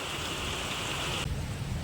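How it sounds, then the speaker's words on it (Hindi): Heavy morning rain falls as a loud, dense, steady hiss with a close wash of drops; the sound thins a little partway through, and no one speaks. "कितना तेज़ बारिश हो रहा है"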